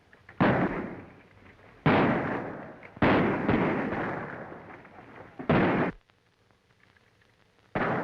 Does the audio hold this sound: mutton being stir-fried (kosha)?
no